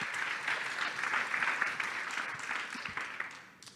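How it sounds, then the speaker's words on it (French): A crowd at a startup pitch event applauds to welcome a speaker, with dense, sustained clapping from many hands at an even level that fades slightly toward the end. "cueillir Bruno Ramael, le CIO de The Expert, sous vos applaudissements bien entendu."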